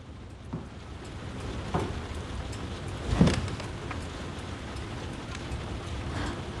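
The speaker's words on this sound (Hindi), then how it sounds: "कितनी तेज बारिश हो रही है।" Steady rain hisses in a dense wash of noise, with a few brief louder patters and thumps; no one speaks.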